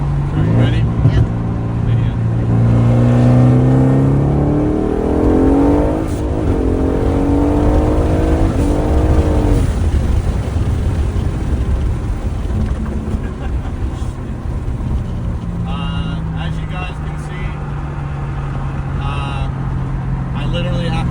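An Aston Martin Vantage with its M177 engine running a big Spool turbo upgrade pulls hard, the engine note climbing in rising sweeps and then settling, with people talking inside the car over it.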